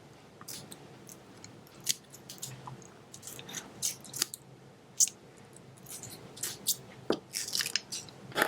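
Scissors snipping through tape on a handmade paper Valentine card, a series of short, crisp, close cuts and clicks at an irregular pace over soft room noise.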